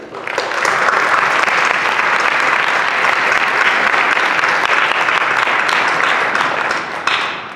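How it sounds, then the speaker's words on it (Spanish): Warm, steady applause from the audience at a book presentation, a full dense wash of clapping that swells quickly and holds for several seconds before tapering. "Un aplauso para ella"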